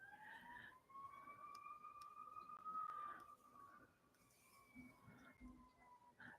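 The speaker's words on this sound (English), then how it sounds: "It's the ambulance. Can y'all hear the sirens?" An ambulance siren wails faintly in the distance, a thin rising-and-falling tone that drifts across the whole stretch with no one talking.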